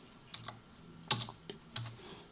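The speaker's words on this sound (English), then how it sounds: "you simply type tar" Several keystrokes tapped on a computer keyboard, a short irregular burst of clicks with one sharper key press, close and fairly quiet, with no voices.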